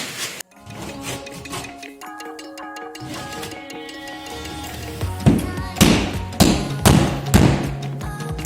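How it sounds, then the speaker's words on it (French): A hammer strikes and breaks a plasterboard partition wall with a honeycomb core during demolition, with a run of close, loud thuds and cracking hits following scraping and tearing, under occasional talk. "avec le marteau, je casse et je peux arracher en suivant les lignes que j'ai fait au cutter"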